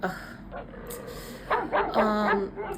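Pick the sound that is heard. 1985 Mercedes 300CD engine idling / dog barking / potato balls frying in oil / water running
dog barking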